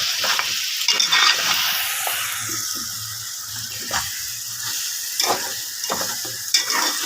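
Goat blood fry cooking in a pan, close sizzling under repeated spatula scrapes and stirring knocks at an uneven rhythm, with no voices.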